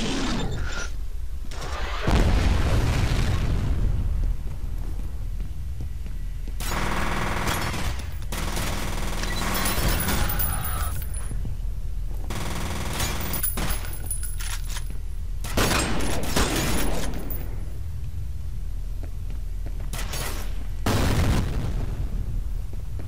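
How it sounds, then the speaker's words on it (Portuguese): Grenade and gunfire from the shooter game F.E.A.R. 3: heavy booms and bursts of automatic fire recur through a loud, rumbling battle with no talk. "tem um tempo pra você poder jogar essa granada"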